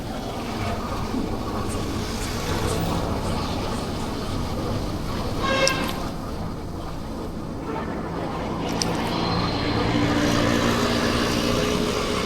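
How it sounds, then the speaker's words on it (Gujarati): A helicopter flies overhead above a busy street by a museum parking area in Surat, a steady aircraft rumble blending with continuous traffic noise, no talk. "ઉપર હેલિકોપ્ટર જાય છે,"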